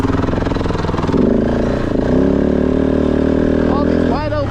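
A Kove motorcycle engine drones loud and steady at close range while riding Arizona single track, pitch rising and falling with throttle, with someone talking over it throughout.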